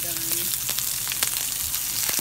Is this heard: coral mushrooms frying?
yes